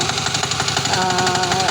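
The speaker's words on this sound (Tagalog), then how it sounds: "Ito pinapaandar nila itong makina na to, pang araro." A hand tractor plough engine runs steadily nearby, a loud, continuous knocking idle with an even mechanical rhythm and no other sounds over it.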